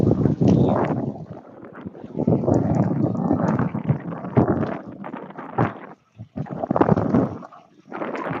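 Loud, gusty wind buffets the microphone in uneven surges while riding into the wind, roaring and dropping out briefly, as if moving fast through open air.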